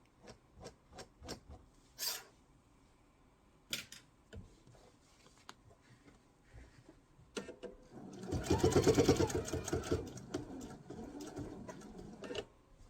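Sewing machine stitching quilt binding, with short bursts of single stitches and clicks, then a longer, louder run of rapid stitching near the end, close and alone.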